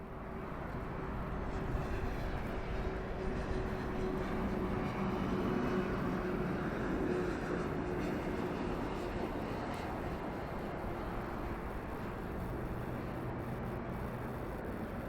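A jet airliner arriving at London Heathrow Airport roars steadily with a broad engine rumble, a constant droning wash that holds through the whole stretch without speech.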